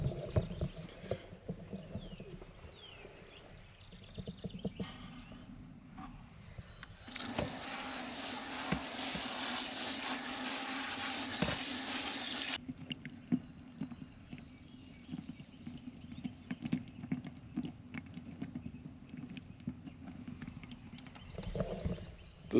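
Water pours into a bucket of day-old fermenting chicken feed on a farm in a steady rushing splash of about five seconds, loud and close, with quieter handling sounds before and after.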